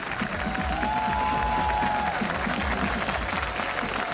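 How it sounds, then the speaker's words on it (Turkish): Concert audience applauding at a Crimean Tatar book fair performance, a steady dense wash of many hands clapping throughout, moderately distant and even in level. "Sağ olunuz, bu alkışlar siz için."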